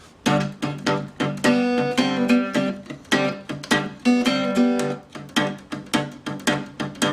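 An electric guitar plays the pre-verse riff of a song, a strong, repeated rhythmic pattern of plucked notes and sustained bent tones, close and loud, with no voices.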